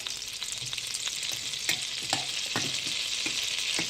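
Garlic frying in a generous amount of oil and a knob of butter in a pot, a steady close hiss and crackle with scattered sharper pops and light spoon taps.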